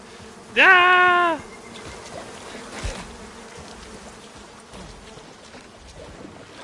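Bees buzz around a tree in the video game Icarus, a constant low insect drone under a brief loud startled shout near the start, then continuing steadily and fairly faint.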